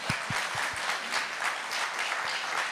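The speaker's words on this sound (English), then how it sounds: "Let's give them one last round of applause." Listeners at a coin-collecting expert talks event give speakers a final round of applause, a few distinct close claps at the start giving way to a steady wash of crowd clapping.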